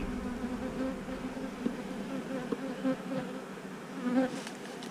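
Honey bees in a bee yard buzz in a steady low drone, a swarm humming continuously and fairly faint, with occasional individual bees passing closer.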